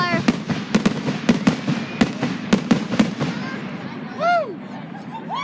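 Rapid-fire fireworks crackle in a quick series of sharp bangs, loud and fairly close, then give way to a rising whistle near the end, with people talking now and then in between.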